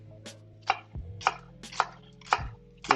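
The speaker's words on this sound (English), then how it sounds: "standard chopping procedure" Vegetables chopped with a knife on a cutting board for a sausage and kale dinner tart and green salad, a steady run of sharp knife strikes roughly every half second over a low background hum, close and clear, with no talking.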